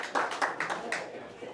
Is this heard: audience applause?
yes